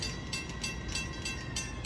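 An M9 electric test train on the Long Island Rail Road approaches Bethpage at night, heading from Hillside to Ronkonkoma, with a steady, loud rolling rumble and faint rhythmic wheel clicks and no voices.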